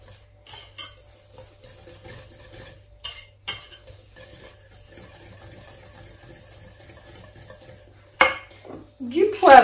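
Grated parmesan and buckwheat sablé dough are worked in a bowl with a utensil, giving soft, intermittent scrapes and taps close by, then louder clanks at the end.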